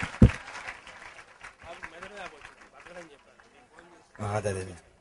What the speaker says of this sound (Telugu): గట్టిగా చప్పట్లు కొట్టు దేవుని స్తోత్రం చెల్లిద్దాం